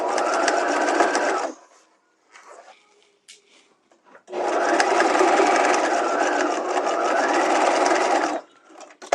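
A sewing machine stitches a half-inch shoulder seam on a bodice in two steady runs, about a second and then four seconds long, loud and close, with a short quiet pause between them.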